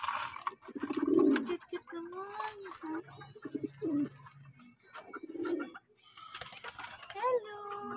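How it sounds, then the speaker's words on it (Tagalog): Pigeons and doves in a backyard coop shared with native chickens, giving soft repeated low coos over several seconds, close by, with people chatting throughout. "Ay, ay, ang galing ng ibon"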